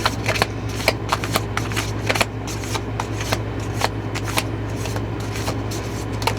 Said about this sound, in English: So let's pull an oracle card.